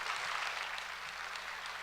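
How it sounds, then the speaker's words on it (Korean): Faint, steady applause from a church congregation welcoming a missionary to the pulpit, a soft continuous patter of many hands clapping with no talking. "뜨겁게 박수로 맞이하겠습니다."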